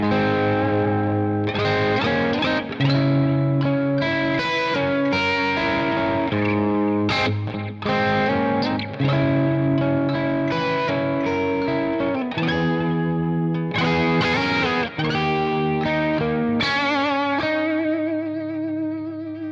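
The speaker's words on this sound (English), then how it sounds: "Put your delay through the reverb because that's what good delay pedals do anyway." Distorted electric guitar chords ring out with delay repeats washed in reverb, the echoes sitting softly behind each strummed phrase.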